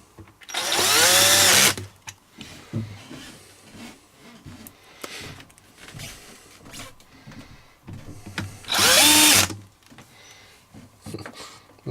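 A power screwdriver drives screws back into a JBL Boombox during reassembly: two loud whirring bursts of about a second each, far apart, with quieter handling clicks and rattles between.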